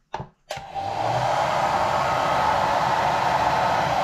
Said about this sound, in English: Take the sock around the hairdryer.